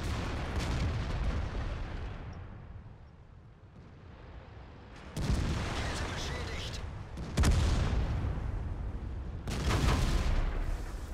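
E50M tanks and other heavy tanks fire their cannons in a World of Tanks clan war battle. Three heavy booms ring out over a low rumbling battlefield background, spaced a couple of seconds apart.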